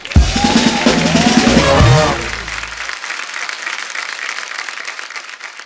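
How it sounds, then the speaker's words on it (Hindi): A television comedy show audience bursts into loud, sustained applause for a contestant, many hands clapping at once, with music fading out underneath in the first couple of seconds. "इनके लिए जोरदार ताली"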